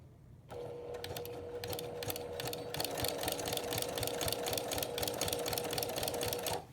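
A sewing machine stitches quilt fabric, a fast steady mechanical chatter with an even hum underneath, running continuously for about six seconds close by.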